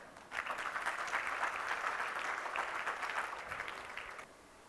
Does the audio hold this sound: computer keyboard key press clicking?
no